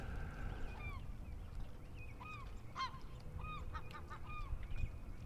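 Herring gulls call repeatedly in short, yelping bursts on the shore of eastern Long Island, clustering into a chattering series at moderate distance over a low background rumble.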